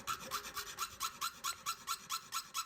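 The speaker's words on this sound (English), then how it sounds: "So here I am shaping every other tooth with the file yet again." A hand file works the teeth of a handmade jab saw, a rhythmic rasping of about a dozen evenly spaced strokes, close and steady, with no voices.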